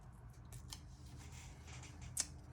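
Scissors snip through paper while an envelope pocket is collaged, several soft close cuts spread across the moment with one sharper snip near the end, against a quiet room hum.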